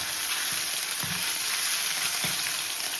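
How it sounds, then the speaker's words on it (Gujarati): Ginger and green chilies roast in a hot pan, giving a steady close sizzle with faint stirring scrapes now and then, no voices. "આદુ ને મરચાંને આપણે રોસ્ટ કરવાનો છે આવી રીતે રોસ્ટ કરી લેશું"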